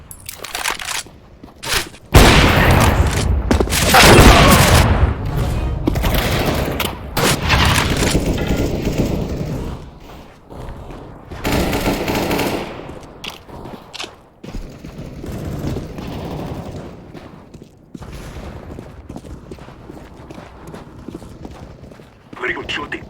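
Rapid gunfire from Counter-Strike: Global Offensive team deathmatch on the Dust 2 map, loud bursts of shots with booming impacts, heaviest early on and then returning in shorter volleys, with game announcer voice lines over the action.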